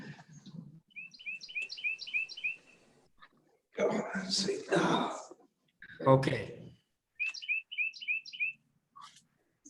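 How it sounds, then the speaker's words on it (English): Birds chirp in repeated short trilled bursts at the start and near the end of a remote board meeting, with people talking in between. "I'm glad Mr. Skidmore brought his birds."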